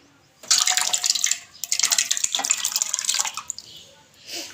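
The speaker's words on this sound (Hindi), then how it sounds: "अब इसके अंदर हमने 1 किलो दही का डालना है।" Plain yogurt, unwhisked, pours into cooled ghee over browned onions for a beef qorma, giving a loud, wet splattering sizzle in two long bursts with a brief pause between, then quieter bubbling.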